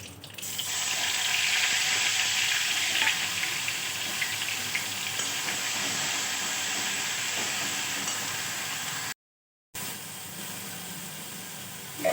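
Spices sizzling in hot oil in a home kitchen as bay leaf, chili and onion paste go in for a mustard fish curry, a steady loud hiss throughout with one brief gap of silence near the end.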